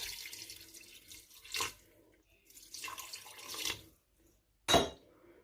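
Water poured into minced meat for shami kebab, splashing in several short bursts with brief pauses, ending in one sharp, louder splash; no talking.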